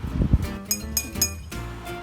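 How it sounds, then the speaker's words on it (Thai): A few light clinks of an ordinary glass wine glass being tapped, short bright pings repeating close by over faint background noise. "นี่คือเสียงแก้วนะคะ"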